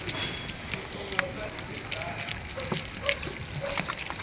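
Water splashing and sloshing as it is poured onto potted plants on a rooftop, with irregular spatters and someone talking over it.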